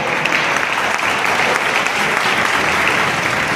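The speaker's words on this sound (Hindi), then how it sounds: "एक बार जोरदार तालियां" Loud, sustained applause from a large audience at a celebration event, a thick, even roar of many hands clapping close by for the whole stretch, with no talk heard over it.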